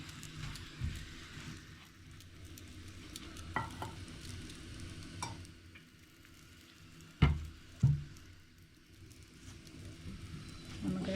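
Sweet potato paratha frying in oil in a pan gives a low, steady sizzle, with a few sharper clatters of a spatula or the pan partway through.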